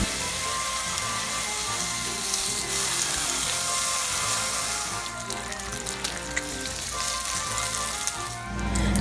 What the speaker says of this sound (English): Pan-broil in a large utensil 1 to 2 slices bacon.